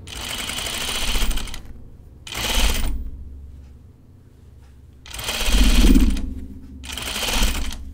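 A home sewing machine runs in four separate bursts of rapid mechanical stitching, each a second or so long with quiet gaps between, its rattle carrying an odd, uneven knocking.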